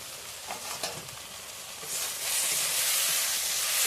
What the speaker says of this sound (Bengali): দেখুন ভালো করে মশলার সঙ্গে মিশিয়ে নিচ্ছি